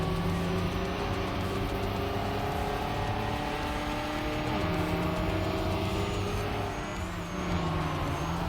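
Canyon race car engine in the Trackmania video game, loud and continuous with steady revving tones and shifting pitch as it drives through corners, no talk.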